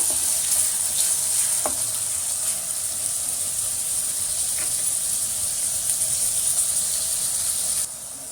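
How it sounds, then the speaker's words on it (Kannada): Onion cooks in a pan for oats upma with a steady, close sizzling hiss that barely changes. A few faint stirring taps break through before the sound drops slightly at the end. "ಈರುಳ್ಳಿ ಸ್ವಲ್ಪ ಬೇಯಬೇಕು"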